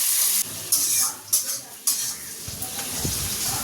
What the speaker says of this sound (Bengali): এবার এই কড়ার মধ্যে দিয়ে দেবো পেঁয়াজ, লাল করে ভেজে নেবো একদম